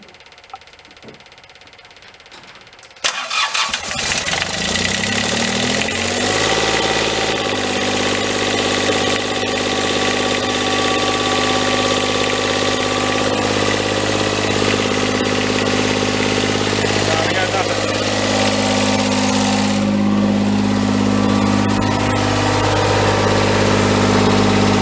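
A junk skid steer repowered with a mismatched engine cranks over after a few quiet seconds, catches and settles into a steady, loud, knocking idle that runs on continuously with a slight rise in throttle.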